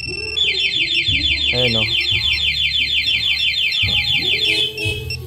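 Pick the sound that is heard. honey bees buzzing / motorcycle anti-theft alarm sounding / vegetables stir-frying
motorcycle anti-theft alarm sounding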